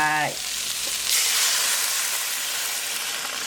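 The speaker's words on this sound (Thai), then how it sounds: "ใส่น้ำลงไป" A brief voice opens, then a sharp surge of hissing and sizzling as water hits a hot pan of stir-fried pork for northern Thai curry, continuing as a steady close sizzle.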